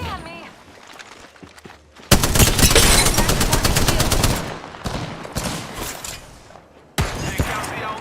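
Automatic gunfire in the shooter Call of Duty: Modern Warfare II, loud dense bursts of shots that hammer for a couple of seconds, ease off, then return in a fresh burst near the end, mixed with game voices.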